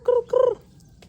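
Two short, nasal, honking calls ring out close by from chickens in a rural village yard in West Sumatra, followed by faint background sounds.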